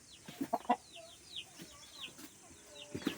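A multicoloured rooster and hens cluck in short, irregular bursts at close range, with faint chirping birds in the background and no talking.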